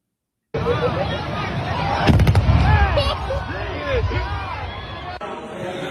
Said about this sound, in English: here's this explosion at an airport